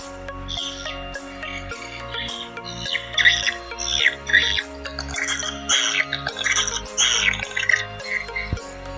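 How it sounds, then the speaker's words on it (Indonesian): Rapid high chirping calls of swiftlets played back through a speaker in a swiftlet house, repeating in bursts over background music. "saya menggunakan rekaman suara burung walet"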